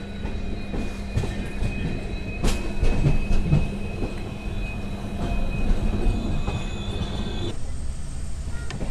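The Yesvantpur–Mangaluru Express passenger train rolls along its tracks through forest, with a continuous rumble, rhythmic wheel clatter and occasional faint squeals, heard from inside a carriage.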